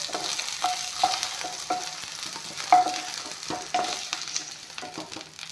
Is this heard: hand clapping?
no